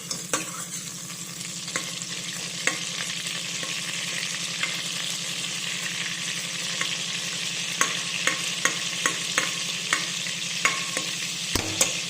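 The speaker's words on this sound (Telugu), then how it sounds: "ఇలా కొద్దిగా బటర్ వేసుకోవాలి, అంతా కరిగిపోయే వరకు అలాగే కలుపుతూ ఉండాలి." Butter melts in hot oil in a pan, giving a steady close sizzle with a low hum beneath and light scraping clicks as it is stirred, growing more frequent toward the end.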